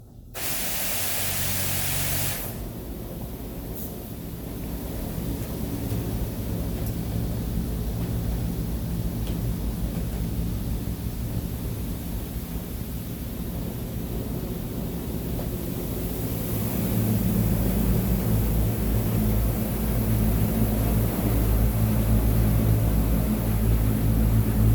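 A soft-touch automatic car wash in Tillsonburg sprays a car with a loud, steady hiss of water jets that swells a little stronger toward the end, with no voices.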